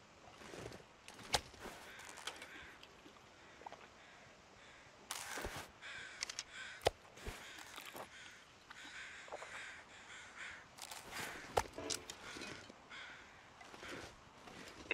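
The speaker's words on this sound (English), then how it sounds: "Okay, I can hear the crows." Several crows caw in the wintry wilderness of The Long Dark, harsh bursts scattered irregularly across a quiet ambient backdrop, some close and loud, others fainter.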